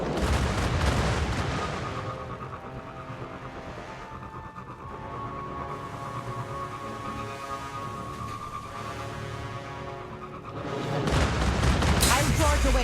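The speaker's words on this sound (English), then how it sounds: "A Goliath tank. Watch out for its cannon." Heavy cannon fire from a Goliath tank in the video game Destiny Rising booms out in dense, loud bursts at the start and end, with a sustained droning game score in between.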